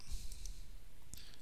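A computer mouse clicks twice, close and sharp, with a short gap between the clicks, over a quiet room.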